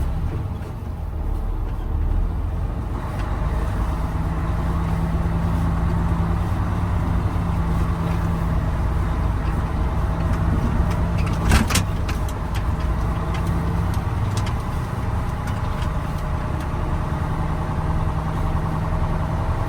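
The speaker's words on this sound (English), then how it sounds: "I'm going to double clutch into fourth gear." Truck engine running steadily during a behind-the-wheel road test with double-clutch gear shifts, a loud continuous low drone with a brief sharp clunk near the middle, no speech.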